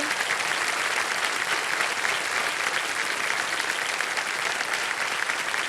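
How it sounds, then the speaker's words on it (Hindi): A studio audience at a televised Hindi quiz show applauds loudly and continuously, a dense wash of many hands clapping with no voices over it. "एक बार जरा जोरदार तालियां बजाएं।"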